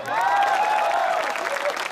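Audience applause at a Hindi kavi sammelan (poetry gathering) at IIT Jodhpur: a steady, dense wash of clapping from a large crowd that holds for the full stretch, with a few raised voices or whistles rising above it.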